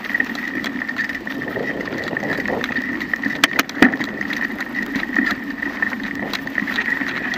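A car engine hums steadily from inside the cabin while driving along a country road, with a constant drone and occasional small bumps and rattles, heard clearly and without speech.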